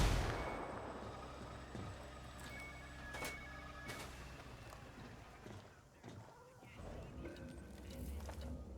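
Scattered gunshots crack through a Ghost Recon Wildlands firefight, a few sharp reports standing out over a low, rumbling game background; quiet overall.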